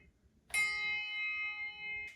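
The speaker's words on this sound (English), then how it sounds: "and it rings nicely, and all the sound keeps going out" A bronze handbell rung with a vertical ringing technique sounds one clear struck tone after a quiet start, then sustains with a long, even ring close by, a faint second touch near the end.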